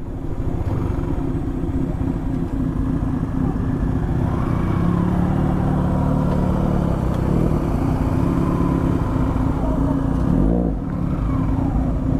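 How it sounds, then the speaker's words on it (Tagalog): Motorcycle engine running steadily on a dirt road leading to Bega Falls in Prosperidad, Agusan del Sur, a continuous close drone with little change in pitch. "Hanggang dito lang yung motor."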